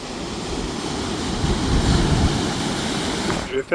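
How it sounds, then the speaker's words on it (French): Ocean waves surge and crash continuously against a rocky Portuguese shore with a steady roar, wind noise buffeting the microphone throughout. "Regardez-moi les vagues"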